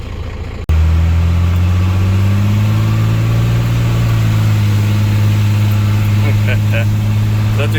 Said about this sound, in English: Such a good running truck.